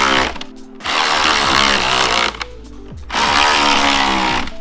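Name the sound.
electric ratchet fastening front splitter hardware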